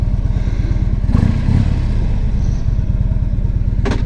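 A 2011 Harley-Davidson Ultra Classic Limited idles close by with a loud, deep, lumpy potato-potato rhythm, briefly blipping the throttle before settling back, without talk.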